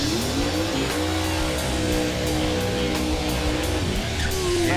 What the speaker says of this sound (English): That's a nasty twin turbo car right there.